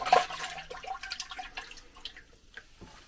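A household water filter housing from a charcoal cartridge system is rinsed under running water, producing brief splashing and dripping sounds that fade into quieter trickles.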